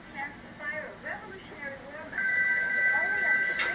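A telephone starts ringing with a steady, bright electronic tone partway through, after a stretch of people talking.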